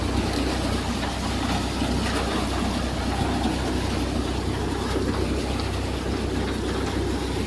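A tractor engine runs steadily throughout, a loud continuous low rumble with broadband mechanical noise close by, without clear pauses or speech.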